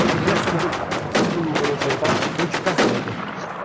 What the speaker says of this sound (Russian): Сзади АВМ стреляет.